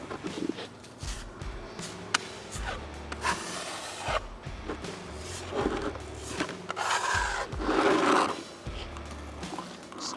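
Epoxy putty pressed and scraped into a concrete crack, giving repeated gritty rubbing and scraping strokes with soft knocks, close and fairly loud, with no talk.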